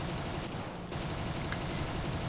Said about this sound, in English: Better be careful here, I'm being shot at.